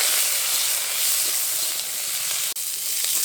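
Cut raw mango dropped into hot mustard oil with mustard seeds and dried chillies, a loud, continuous broad hiss and sizzle close by, steady throughout with one brief dip near the end.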